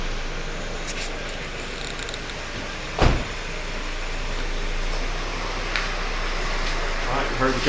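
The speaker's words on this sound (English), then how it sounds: "Heard the compressor cut on." A car's A/C compressor engages during a refrigerant recharge: a single sharp clunk about midway stands out over a steady engine and blower hum, with faint clicks afterward.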